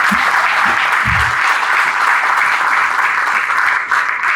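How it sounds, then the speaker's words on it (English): A loud, sustained round of applause from a crowd, steady clapping filling the whole stretch with a few low thumps early on. "we all owe these three brilliant souls a loud round of applause"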